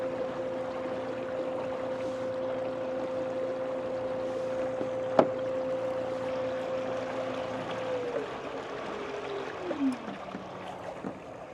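A rudder-style electric outboard motor drives a small boat with a steady, close electric whine over water wash, then winds down and slides lower in pitch as the motor slows toward a stop near the end.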